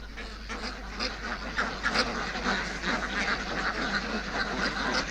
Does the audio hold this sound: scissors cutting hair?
no